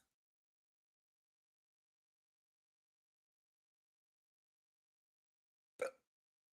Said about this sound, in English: What causes hiccups?